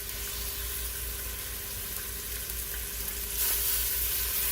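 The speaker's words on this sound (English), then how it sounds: "I'm going to sear my pork loins first to get some color on them" Pork loins seasoned with salt, pepper and cumin sear in hot oil in a Dutch oven, giving a steady, close sizzle and crackle that swells slightly toward the end, with no talking.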